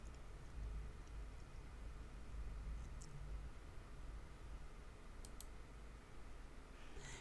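A computer mouse clicks a couple of times, soft and close, over a steady low hiss with no talking.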